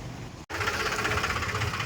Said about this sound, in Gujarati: ટ્રેક્ટરનો સેલ્ફ મારીને ડાયરેક્ટ આવી જાય આપણે ખેતરમાં